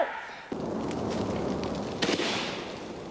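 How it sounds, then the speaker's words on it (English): Film set pyrotechnic explosions for a 1984 sci-fi production, a sudden bang followed by sustained crackling fire and debris noise, with a second burst of popping near the end. "Amidst the explosions"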